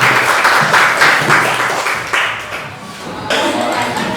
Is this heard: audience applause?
yes